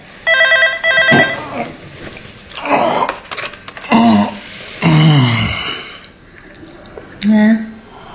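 Repeated bursts of a telephone ringing in a home scene. Each burst is short and fairly loud, with voices and rustling between them.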